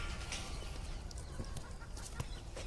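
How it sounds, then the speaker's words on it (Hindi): Free-range hens pecking at feed on the ground, with soft, scattered clucks and faint short calls over a steady low outdoor rumble and no talking. "आपको देखे दिखाऊंगा अभी मैं मेरी मुर्गियाँ कैसे खाएगी इसे।"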